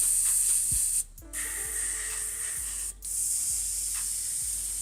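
An airbrush spraying paint in close, loud hissing bursts to touch up a hydrodipped firearm, with two brief breaks in the spray and light clicks of handling underneath.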